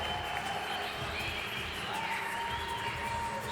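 Spectators at a university games diving event at Rhine-Ruhr 2025 applaud and cheer a dive, a steady far-off crowd noise with broad clapping and voices, heard alone without close talk.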